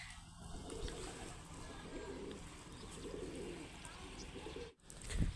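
Pigeons coo repeatedly in low, throaty rolls while feeding on grain and water, a close flock murmuring steadily, with a brief drop in sound near the end.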